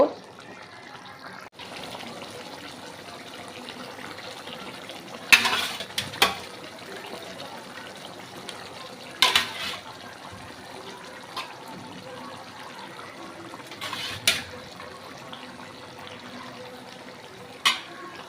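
Water runs into a cooking pan of simmering potatoes, a low continuous trickle broken by a few brief louder splashes and knocks, with no one speaking.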